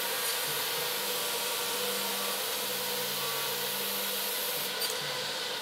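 An SCM Minimax edgebander woodworking machine running with its feed track at 9 meters per minute, a loud steady broadband whir with a low droning tone, with no talk.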